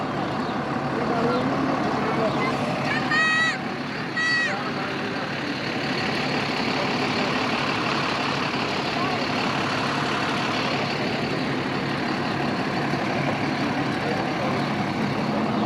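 A vehicle engine idles steadily as pilgrims board at Masjid e Nimra on the plain of Arafat near Makkah, a continuous rumble with a few brief beeps and voices under it.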